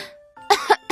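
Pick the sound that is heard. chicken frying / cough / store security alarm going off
cough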